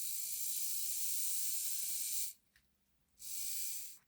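A Hornby Patriot Class model locomotive's motor spins on battery power with a thin, high, steady whirring hiss. It stops for about a second, then starts again, faint and close, with no talking.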